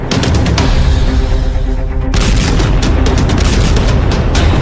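A rapid series of loud artillery blasts and explosions in a Gulf war setting, booming one after another with heavy rumbling, briefly easing before another burst of repeated impacts.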